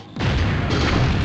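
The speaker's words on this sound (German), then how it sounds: "Was ist denn hier gerade explodiert?" A sudden loud blast in the video game Invasion Deutschland bursts in and holds as a dense, rumbling roar for about a second, no voices.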